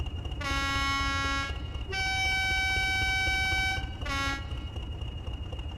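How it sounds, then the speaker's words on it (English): Three blasts of a deep multi-tone Class 20 diesel locomotive horn in a train simulator game: a short one, a longer sustained one, then another short toot, loud over a low rumble. "Is this not one of the best horns in the game?"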